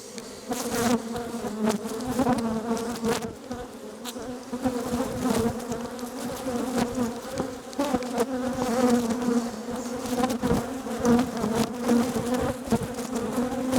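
Honeybees swarm out of an opened nuc box, filling the air with a dense, steady buzz that stays loud and close throughout with no talking.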